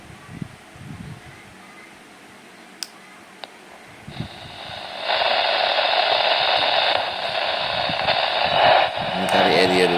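A hand-crank solar power bank radio with a built-in lamp is tuned, its loud hissing FM static swelling in midway and holding steady to the end, with faint handling noise and a couple of clicks before it.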